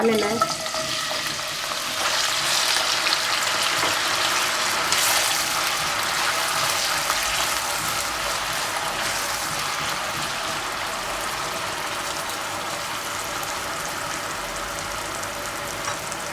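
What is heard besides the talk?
potatoes being added to hot oil in a pan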